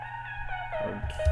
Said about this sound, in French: c'est Effectrix, c'est le son qui va garder une note.